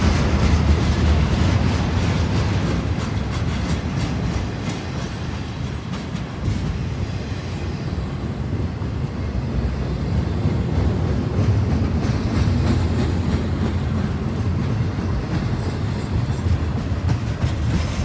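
A Norfolk Southern freight manifest train rolls past in Duluth, Georgia, a sustained loud rumble of wagons with rhythmic clickety-clack from the wheels, steady throughout with no talking.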